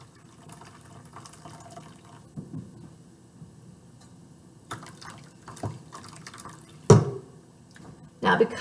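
Water poured into a pan to make a water bath for a cheesecake, with soft trickles and splashes and a few sharper pouring bursts near the end, while a person talks intermittently.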